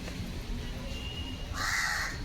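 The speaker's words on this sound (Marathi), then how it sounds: "आलाय कावळा खायला, त्याला ठेवले ते घे बाबा खाऊन" A crow caws loudly near the end over a steady outdoor background hum, with faint ambient noise before it.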